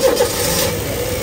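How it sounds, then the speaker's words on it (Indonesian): A 2013 Honda City GM2 E engine idles smoothly and steadily, a soft even hum close by with no knocks or rough noises, heard alone without talk. "Dan ini suara mesinnya halus standar normal."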